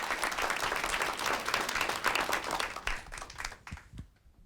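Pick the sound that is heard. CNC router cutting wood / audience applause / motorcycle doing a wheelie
audience applause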